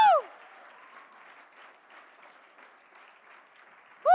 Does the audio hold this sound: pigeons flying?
no